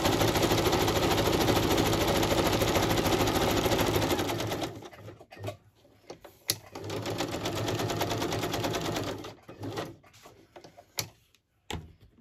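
A sewing machine stitches through altered packaging folded into an envelope. It runs loud and continuous in a fast, steady rhythm for about four seconds, then restarts in shorter stop-start bursts separated by brief pauses.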